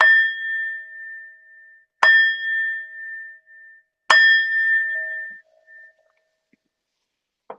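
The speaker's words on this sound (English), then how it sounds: "I'll ring the bell to officially close the meditation." A meditation bell is struck three times about two seconds apart to close a mindfulness session, each clear ringing tone decaying slowly, followed by near silence and a faint final tap.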